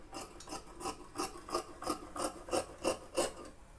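Scissors cut through blouse lining fabric in about ten evenly spaced, soft crunching snips, close up and quiet, with no talking.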